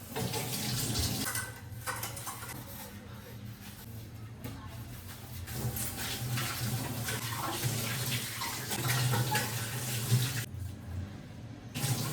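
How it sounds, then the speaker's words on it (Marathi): Water poured onto a potted tulsi plant, a steady close splashing and trickling flow that runs almost without pause. "दोन तीन दिवस झालं झाडाला पाणी नव्हतं घातलं. थोडंसं पाणी घालूया."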